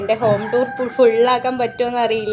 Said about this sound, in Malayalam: കോഴി നല്ല രീതിയിൽ കൂവുന്നുണ്ട്